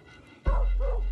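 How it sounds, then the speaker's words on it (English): A dog barks at a puppy farm, inside a breeding shed near Kidwelly housing many breeding dogs and puppies: one loud, close yelp after a quiet start, with a booming low-frequency thump beneath. "Inside, lots of breeding dogs and puppies."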